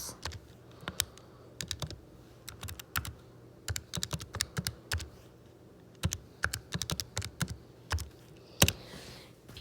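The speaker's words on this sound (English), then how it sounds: "I'm going to type that in the calculator just like it looks." Fingers tapping numbers into a calculator, a quick series of crisp, close button clicks in irregular clusters with brief pauses, alone in a quiet room.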